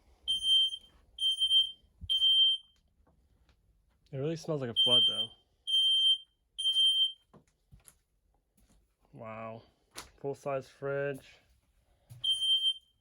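An RV alarm system sounds repeated shrill electronic beeps in short bursts, with someone talking between and over them inside the flood-damaged, wet-smelling RV.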